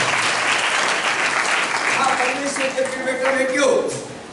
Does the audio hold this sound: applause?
yes